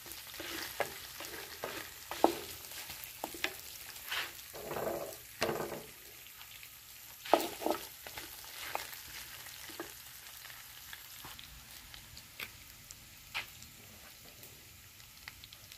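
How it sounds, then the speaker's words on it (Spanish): Meat browns in a frying pan with a quiet continuous sizzle, broken by irregular scraping and clattering stirs, some louder bursts, then a calmer steady frying. "Ya la carne ya se empezó a dorar."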